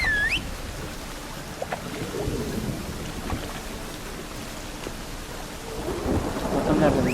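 Steady rain with rolling thunder in The Witcher 3 video game, a constant wash of rainfall under low rumbles that swell near the start and again toward the end, with no talk.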